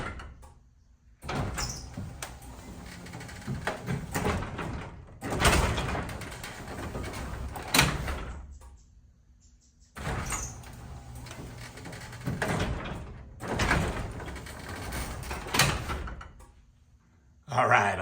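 A belt-drive garage door opener runs the door in two long stretches with a steady mechanical rumble and hum, each followed by a pause, with someone talking between runs.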